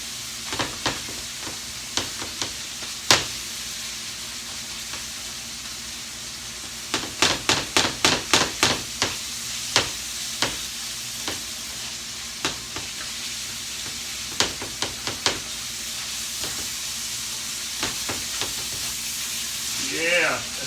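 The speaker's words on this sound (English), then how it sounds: "Stir my meat. Make sure it's good and chopped up." Ground meat sizzling steadily in a pan on the stove for a sloppy joe casserole, with repeated sharp scrapes and clacks of a utensil chopping and stirring it, bursts of quick strokes in the middle, close and clear.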